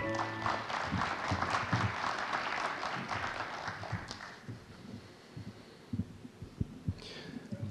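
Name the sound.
audience applause welcoming a speaker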